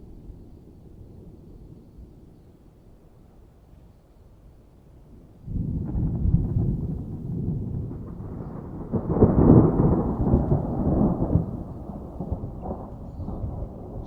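Thunder rolls during an electrical storm at 8,500 feet above sea level, starting as a faint low rumble and then swelling into a loud, deep, drawn-out roll that peaks and lingers.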